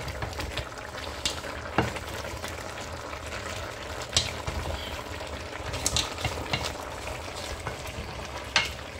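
Oxtail and pepper stew simmering in a pot without oil, a steady bubbling sizzle with occasional stirring clinks and scrapes, close and continuous, no talking.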